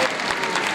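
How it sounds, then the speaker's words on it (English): Audience applause for a women's chorus at an annual event, a dense, steady wash of many hands clapping that fills the whole short moment at a loud, even level. "Let's have another round of applause for the wonderful Detroit Women's Chorus."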